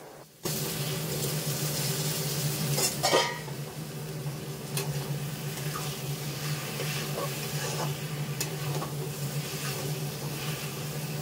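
Cabbage with chopped coriander is stirred in a pan. A steady sizzle runs throughout, with a few scraping knocks from the utensil against the pan, close and moderately quiet.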